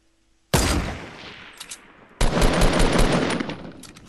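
Weapon fire in Fortnite: a sudden loud burst of shots, a brief lull with a few scattered cracks, then a longer sustained volley of rapid gunfire, close and sharp, with no talking.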